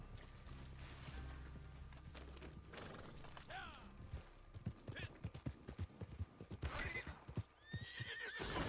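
A horse whinnies sharply after being shot, amid hoofbeats and clattering mechanical noises, with a voice talking in the background and further nickering toward the end.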